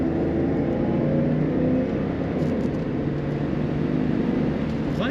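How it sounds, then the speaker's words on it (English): A 1979 Mercedes-Benz 450SL convertible with an automatic transmission drives along, its engine giving a steady, loud, close-up drone and road noise. There is no clear shift break. "Plenty of power, nice shifting from the automatic transmission."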